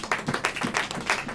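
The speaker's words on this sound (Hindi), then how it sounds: "ताली बजाइए।" Church congregation clapping together in a steady rhythmic beat, roughly five or six claps per second, close and fairly loud, with no voices over it.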